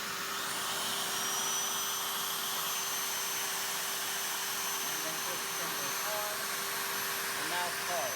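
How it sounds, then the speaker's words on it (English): A Shapeoko CNC router spindle whines steadily alongside a dust vacuum, a continuous high-pitched hum and rushing air at moderate level, with a voice briefly audible near the end. "we're going to turn the spindle on by pulling this up."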